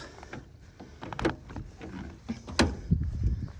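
Door of a 1968 Mini Traveller MK2 1000 being opened, with a series of close mechanical clunks, latch clicks and rattles spread over a few seconds.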